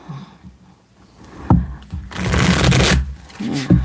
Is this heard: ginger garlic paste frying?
no